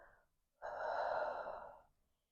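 A single slow, soft breath during a yoga flow, a gentle airy inhale or exhale lasting about a second and a half, close and quiet with no talking.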